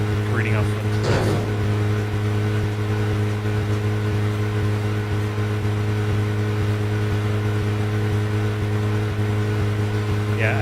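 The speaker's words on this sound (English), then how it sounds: "I love how obviously the engine sounds are looping over top of each other" A car engine in the game Deadly Premonition drones on as a looping, unchanging hum with steady low tones, while a couple of faint brief blips rise above it.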